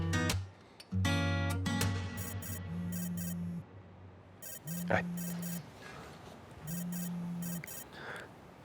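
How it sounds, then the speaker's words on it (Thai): A phone rings in a Thai drama scene, repeated electronic ringtone bursts in a rhythmic pattern, loud and close, with music-like tones at the start. "ผมขอรับโทรศัพท์แป๊บนึงนะครับ"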